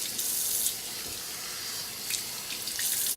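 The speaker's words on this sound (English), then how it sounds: "I'm gonna go ahead and rinse my face" Water runs steadily from a bathroom tap into a sink while a face is rinsed, a close, continuous hiss and splash with small bursts of splashing and no talking.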